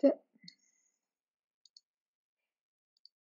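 A single mouse click on a button while setting up a WordPress booking plugin, heard as a few faint, isolated soft ticks after a brief spoken phrase, in an otherwise quiet room.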